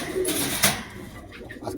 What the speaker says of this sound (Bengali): মাশাআল্লাহ অনেক কবুতর আছে।